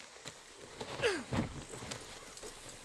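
A horse in Red Dead Redemption 2 moving at a slow walk, soft irregular hoof clops with a faint snort or breathy sound, quiet and close against low game ambience.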